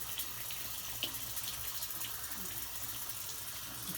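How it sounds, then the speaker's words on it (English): Warm tap water flows into a sink in a steady, soft hiss, faint and continuous with small splashy ticks, quiet and close. "And then you can sit here and just let the water flow"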